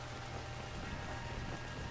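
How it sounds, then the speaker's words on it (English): A continuous rain sound plays behind a cozy video game stream: dense, even patter of rain on a surface, steady and unbroken, with no other noise over it. "I don't think we need to hear the rain sound right now"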